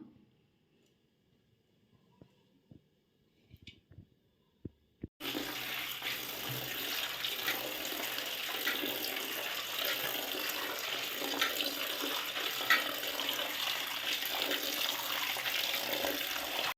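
Tap water pours steadily into a container of grapes being washed for homemade grape wine, a continuous splashing rush that starts abruptly after a few faint clinks and handling sounds.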